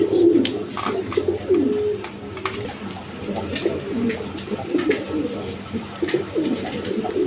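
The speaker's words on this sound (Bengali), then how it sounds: "একদম বিগ সাইজের লাহরি কবুতর" Large Lahori pigeons coo steadily and up close in a loft, overlapping low throaty calls rolling on without pause, with a faint watery hiss beneath.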